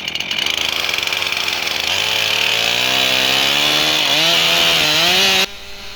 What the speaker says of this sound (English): the first thing that I do when I'm felling a tree is I cut a notch out in the direction I want it to fall